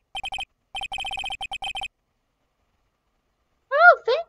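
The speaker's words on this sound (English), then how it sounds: "All of a sudden, the phone began to ring." A telephone rings in the Phoenix Wright: Justice for All video game, sounding as rapid electronic trilling pulses in two clear bursts, followed after a pause by a short chirpy blip.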